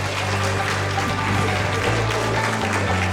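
Dense, steady audience applause fills the hall at an app launch event, loud and continuous throughout with no pauses.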